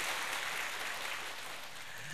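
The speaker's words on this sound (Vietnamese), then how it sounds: "Xin dành một tràng vỗ tay thật lớn để chào đón sự hiện diện của tất cả quý vị" A crowd applauds to welcome guests at a Buddhist ceremony, a dense, sustained wash of clapping that holds steady and eases slightly toward the end.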